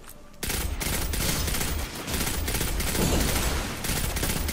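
Sustained rapid automatic gunfire in the Destiny 2 video game, a dense, loud stream of shots with brief dips, running continuously after a short quiet start.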